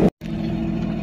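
A 1966 Chevy C10 pickup with a new carburetor pulls away from a stop; its engine drones steadily and close after a brief cut at the start.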